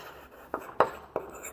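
Chalk or marker strokes on a board come as a few short, sharp scratches spaced irregularly over a quiet room hush, faint and close, with no talk over them.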